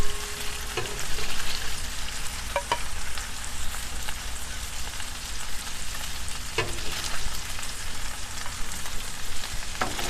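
Smash burgers and bacon fry on a stovetop with a steady, dense sizzle and crackle throughout, broken by a few faint utensil clicks and no voices.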